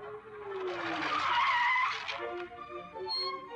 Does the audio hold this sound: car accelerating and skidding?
yes